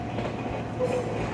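A retro Japanese train waits at a passing loop near Tokyo, a low rumbling rail noise with faint rhythmic clatter and a brief thin squeal, steady and moderately quiet.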